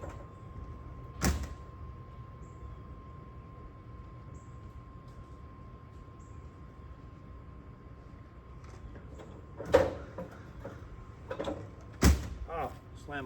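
A door slams shut at a camp, likely an RV or camper where a furnace is being lit, with sharp bangs near 1, 10 and 12 seconds over a steady low hum and quiet background.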